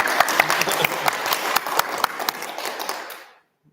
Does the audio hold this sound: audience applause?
yes